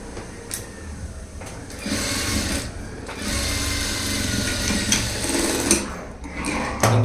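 Sewing machine stitching a blouse, running in several bursts with short pauses between them, a fast close mechanical whirr and clatter.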